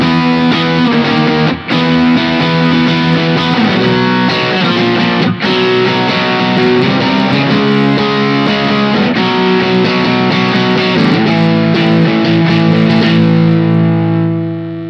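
Distorted electric guitar through a Bullet Play mini floorboard amp, loud and continuous with thick sustained chords and riffs over fifteen seconds, with two brief breaks between phrases and no talking.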